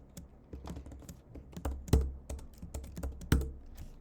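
Keys clatter on a computer keyboard in quick irregular bursts, close and fairly quiet, with a few sharper strikes standing out and no speech.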